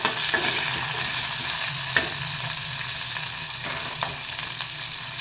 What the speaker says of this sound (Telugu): మూత పెడతాము ఓన్లీ నూనెలో కొంచెం వేగినాయండి